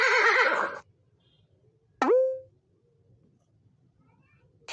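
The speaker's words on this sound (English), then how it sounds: "Horse." A horse whinnies loudly and close with a wavering, shaky call, then gives a shorter squealing neigh after a pause, with quiet gaps in between.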